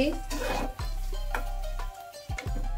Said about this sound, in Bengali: ডালগুলো দিয়ে একটু নেড়ে চেড়ে মিশিয়ে নিলাম